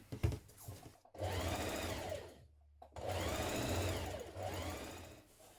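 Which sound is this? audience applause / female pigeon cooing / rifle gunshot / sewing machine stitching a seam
sewing machine stitching a seam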